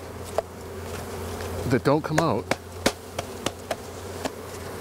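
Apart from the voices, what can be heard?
bees buzzing around a hive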